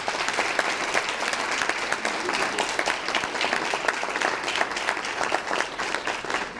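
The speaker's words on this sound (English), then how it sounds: "Let's give them a round of applause right over here." An audience at a scholarship reception applauds with sustained, dense clapping throughout, moderately close and even in loudness, with no voices rising above it.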